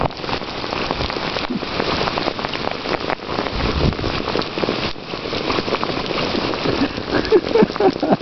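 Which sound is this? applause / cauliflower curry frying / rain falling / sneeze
rain falling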